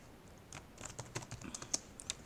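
Close, quiet typing on a computer keyboard during online registration, with a run of irregular light key clicks and a few sharper taps, and no talk.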